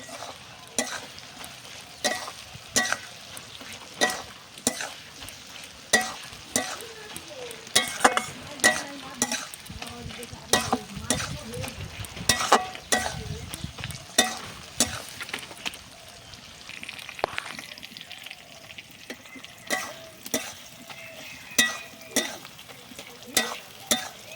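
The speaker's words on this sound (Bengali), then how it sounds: "ভালো করে পেঁয়াজটাকে ভেজে নিচ্ছি।" Onions frying in a kadai with bay leaf and cumin for a mutton curry, continuous sizzle broken by regular clacks of a stirring spoon against the pan.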